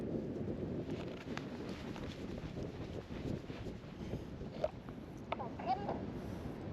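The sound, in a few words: wind while paragliding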